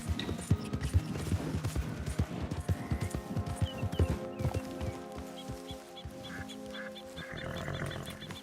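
Horse hooves in Red Dead Redemption 2: a steady clip-clop of a ridden horse runs through the clip under tonal ambient game sound and scattered wildlife noises. No one speaks.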